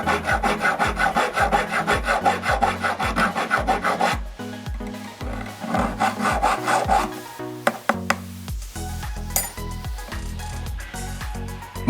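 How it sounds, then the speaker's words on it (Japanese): Hand file rasping a groove deeper into a handmade ring, a steady run of rhythmic back-and-forth strokes, close and fairly loud, with a brief pause and a change of stroke pattern midway. "このヤスリで さらに深くするって感じですね"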